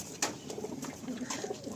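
Kalpetia pigeons coo softly in short repeated phrases at Chingrighata, faint and near, with a brief sharp call early on.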